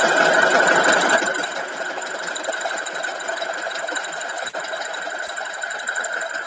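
A sewing machine stitches a quilt block in a steady, close mechanical whir, slightly louder for the first second, then running evenly with a faint click partway through.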